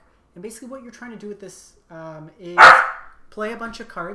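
A dog barks once, loud and close, partway through steady talk from a man indoors. Speech runs before and after the bark.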